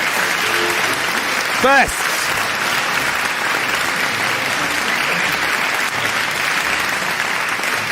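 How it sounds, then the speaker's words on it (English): An audience at a debate contest applauds contestants stepping onto the stage, a steady wash of clapping from a crowd that runs the whole time, with someone speaking briefly over it near the start. "Applaud them as they step onto the limelight."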